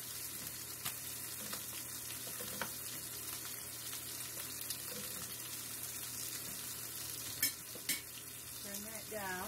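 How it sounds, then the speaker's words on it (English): Black Angus chuck steak fries in beef tallow with a steady, close hiss, as occasional scrapes and a few sharp clinks come through and a brief watery splash sounds near the end, with no speech. "I did cook this in my beef tallow."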